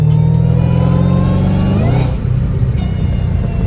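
Dodge Challenger Hellcat Redeye with valved mufflers revving close by, a deep throaty engine roar that holds steady, then drops off into a lower rumbling idle.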